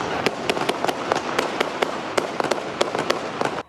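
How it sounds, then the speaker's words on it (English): Many sharp gunshots crack in rapid, irregular succession during a street shootout in Little Italy, captured on a cell phone, loud and close with a steady noisy background, ending abruptly. "right before the sound of multiple gunshots ring out."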